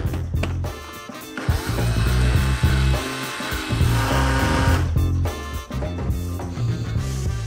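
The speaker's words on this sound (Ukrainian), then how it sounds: "Перебиваємо в блендері." A blender purees cauliflower with cream during a chef's cooking masterclass, giving a loud, continuous whirring and grinding with a few brief dips in the motor's pitch.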